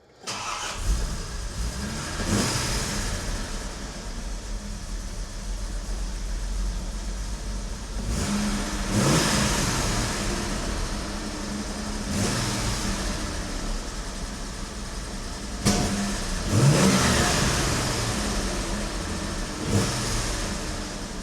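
A car engine converted to an SU HD8 carburettor with a manual choke, running rich and revving repeatedly in bursts over a steady idle, nearby and continuous.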